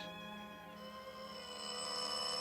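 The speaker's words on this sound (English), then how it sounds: "they stood there ringing my bell for 5 solid minutes before they woke me up" An electric bell rings continuously in an old 1949 radio suspense drama, a steady bright sustained ring with no voices over it, building slightly louder toward the end.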